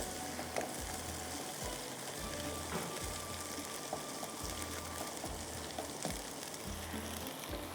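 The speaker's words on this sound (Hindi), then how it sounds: "इसको मैं इसके साथ गार्लिक के साथ फ्राई करती हूँ हाई फ्लेम पे" Vegetables fry with garlic over a high flame, giving a steady close sizzle and crackle with a low, faint hum underneath.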